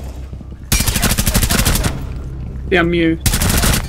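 Rapid automatic gunfire in Rainbow Six Siege, two loud close bursts of dense shots separated by a short pause, with a voice briefly speaking between them.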